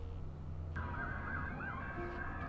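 Police car sirens wail in a rising and falling pattern, loud and fairly close, over low traffic rumble, with no talk.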